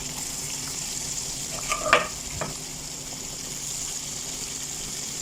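Chicken pieces fry in hot oil, a continuous soft sizzle running throughout, broken near the middle by a few brief clatters and scrapes.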